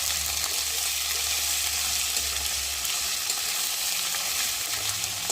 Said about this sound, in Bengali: আদা আর রসুনটা যতক্ষণ একটা কাঁচা গন্ধ যাবে ততক্ষণ আমি একটু তেলের উপরে ভেজে নেব